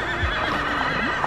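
Horse at a driving trials show neighs loudly and close by while hooves clip-clop during unloading, the whinny wavering briefly over steady background noise.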